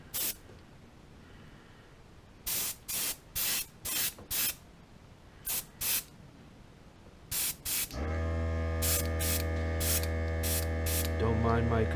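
Short bursts of airbrush spray hiss while painting a bluegill crankbait fishing lure in the first half, then a loud steady compressor hum and drone runs underneath as spraying continues in intermittent bursts.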